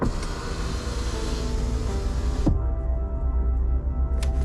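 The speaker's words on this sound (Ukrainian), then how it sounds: "для того, щоб керувати задніми вікнами, нам треба натиснути ось цю кнопочку і ми вже керуємо задніми вікнами" Rear power windows of a Volkswagen ID4 motoring, a steady close electric whine and hum inside the cabin that stops abruptly midway, followed by a faint click.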